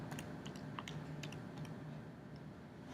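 Quiet, close clicking of keys pressed in short irregular bursts as numbers are entered on a calculator, with brief pauses between presses and no voice.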